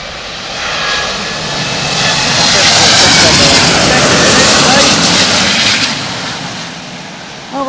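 A Japan Airlines jet lands in a crosswind at London Heathrow, its engine roar swelling loud and close, holding steady, then easing off, with a voice talking over it.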